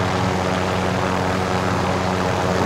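A helicopter in Call of Duty: Modern Warfare drones with a steady, loud rotor and engine roar, close and continuous with no breaks.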